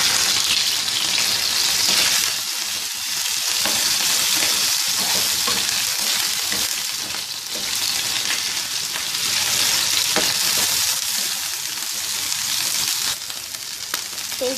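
Chicken-style goat liver (kaleji) with garlic-ginger paste frying on a tawa, a steady loud sizzle with occasional stirring scrapes throughout, no voices.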